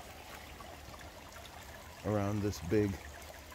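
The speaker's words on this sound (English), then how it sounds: "And it's flowing so much that we have the waterfall" Water from a swamp drainage pump's outflow pours steadily over a small rock waterfall and cascades into a pond, a continuous rushing wash with someone talking briefly over it.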